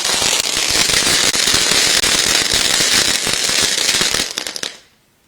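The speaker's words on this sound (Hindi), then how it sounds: "देखो एक छोटा बच्चा है और पटाखे चलाने में पूरा मशगूल है।" Firecrackers set off during Diwali celebrations crackle and pop in a dense, loud, continuous barrage, then quickly die away into quiet at the end.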